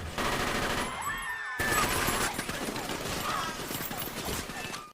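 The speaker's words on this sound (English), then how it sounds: "Art finally drops the charade by taking out a submachine gun and killing everyone" A submachine gun fires in a horror film scene, rapid dense bursts of close, loud gunfire rattling almost continuously with a brief break, set among other chaotic film sounds.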